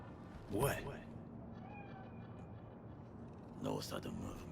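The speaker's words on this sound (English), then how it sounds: "Do you see it? That cat?" A cat in the game Cyberpunk 2077 gives two distinct meows a few seconds apart, moderately close over a quiet ambient hum, with a faint voice between them.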